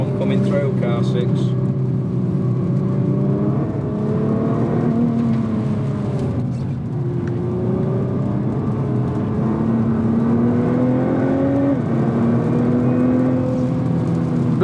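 A 2017 Nissan GT-R race car lapping Spa-Francorchamps in the rain, its engine note rising and falling steadily through gear changes as it drones on, loud and close throughout, with a voice talking over it.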